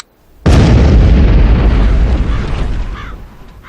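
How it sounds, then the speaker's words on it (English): Two 8-ounce cartridges of plastic explosive detonate in a farmer's field: a sudden, very loud boom after a brief quiet lead-in, followed by a long rumbling roar that slowly fades. "We used 2 8-ounce cartridges of plastic explosive on that"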